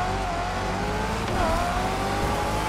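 Ford Mustang engine in The Crew Motorfest, a steady loud drone with a rising and falling rev tone, a brief surge midway, continuous and without voices.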